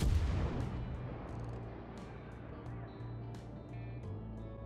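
Naval gun salvo in World of Warships, a heavy boom at the start decaying into rumbling engine drone, with a few fainter distant shots trailing after.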